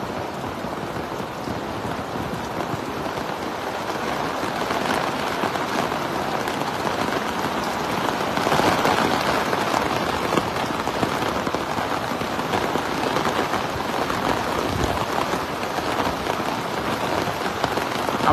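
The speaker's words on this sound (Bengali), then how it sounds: "প্রচুর পরিমাণের বৃষ্টি হচ্ছে" Heavy rain pours steadily outdoors in Dubai, soaking an outdoor kitchen, a dense continuous hiss of drops drumming on surfaces with some wind, loud and unbroken throughout.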